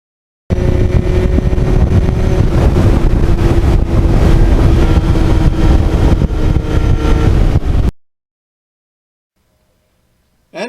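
A 1991 Yamaha FZR 1000 motorcycle with a replaced exhaust cruises on the highway, its engine droning steadily under heavy wind rush for about seven seconds before cutting off abruptly into silence.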